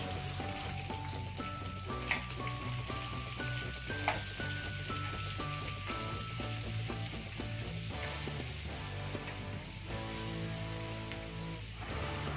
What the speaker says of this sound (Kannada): ಎರಡು ಈರುಳ್ಳಿಯನ್ನು ಕಟ್ ಮಾಡಿಕೊಂಡು ಹಾಕ್ಕೊಳ್ತಾ ಇದ್ದೀನಿ ಹಾಗೆಯೇ ಸ್ವಲ್ಪ ಕರಿಬೇವು ಸೊಪ್ಪನ್ನು ಹಾಕ್ಕೊಂಡು ಈರುಳ್ಳಿ ಸಾಫ್ಟ್ ಆಗೋವರೆಗೂ ಫ್ರೈ ಮಾಡ್ಕೊಳ್ತೀನಿ